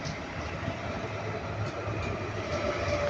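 A British Rail Class 350 electric multiple unit arrives at a station platform, giving a steady, loud rumble throughout with faint rail squeal, no voices over it.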